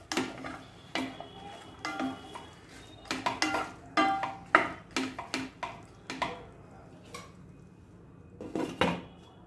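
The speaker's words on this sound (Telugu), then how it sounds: "ఒకసారి బాగా కలుపుకొని మూత పెట్టేసుకుందాం" Okra tomato chutney stirred in a pot with a metal spoon, giving repeated clinks and scrapes in a steady rhythm, close and fairly loud with no talking, then a lid placed over the pot.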